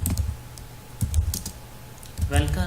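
Someone typing Java code on a computer keyboard, with quick bursts of close key clicks and a brief murmur of a voice.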